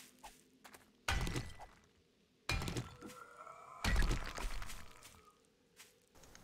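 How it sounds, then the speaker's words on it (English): Three heavy, crunching impacts of rocks being struck in the game 7 Days to Die, spaced a second or two apart, each with a brief rattle of debris, separated by quieter stretches with faint clicks. "Beat on a couple of rocks."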